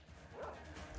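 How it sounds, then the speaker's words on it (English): A dog barks in the video game Metro Exodus, a faint, brief yelping bark over a dense, noisy game soundscape. "there's the dogs."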